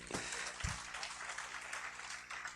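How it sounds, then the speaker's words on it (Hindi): A seated audience at a spiritual talk applauds in a steady, faint wash of clapping that runs the whole time without any voices. "शॉल से हम जोरदार तालियां बजाएंगे."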